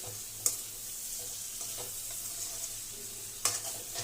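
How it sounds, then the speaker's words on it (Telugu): Pieces of chicken liver fry in a pan with a steady, even sizzle throughout, broken by two brief sharp clicks from a spoon or utensil. "లివర్ అనేది చాలా బాగా ఫ్రై అయింది"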